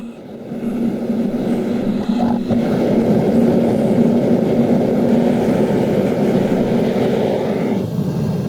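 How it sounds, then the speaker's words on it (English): A blowtorch roars steadily and loudly while melting down aluminium scrap from a jet washer, a continuous broad rushing hiss with no pauses. "In with the blowtorch."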